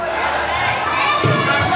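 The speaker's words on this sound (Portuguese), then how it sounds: "Vocês gritaram super bem." Children at a clown show shout together as a crowd, a loud sustained burst of young voices with cheering swells, continuing steadily throughout.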